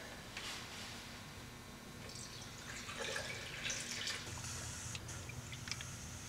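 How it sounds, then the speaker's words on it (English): Air hissing and gurgling out of a car cooling system bleeder valve, faint and close, with watery bubbling and sputtering that swells toward the middle. "You can actually hear the air that's escaping this breather valve."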